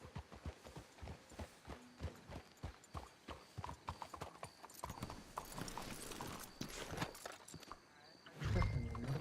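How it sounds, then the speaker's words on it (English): Rhythmic hoof clip-clops of horses walking steadily in the video game Red Dead Redemption 2, with a snort or whinny near the end and faint voices in the background. "Let's hitch the horses up ahead."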